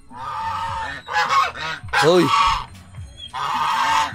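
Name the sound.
geese honking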